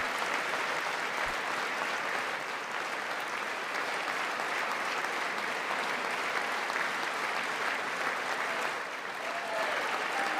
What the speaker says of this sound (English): Oh my God, enough clapping. Enough clapping.